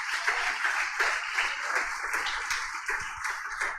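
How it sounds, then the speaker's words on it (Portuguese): Congregation in a church applauding, steady dense clapping from many hands, somewhat distant and moderate, with no talk over it. "dê um glória a Deus e um aplauso a Jesus"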